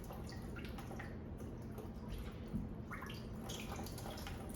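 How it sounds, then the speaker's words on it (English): Water draining out of a spotless water filtration system, a steady low gurgling rush with scattered drips and small splashes nearby. "more water coming out"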